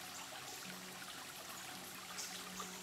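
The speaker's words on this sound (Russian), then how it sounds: "Ты слышишь журчание воды." A small stream in the Appalachian backwoods trickles and babbles steadily on its own, a soft continuous burble of running water with no voices.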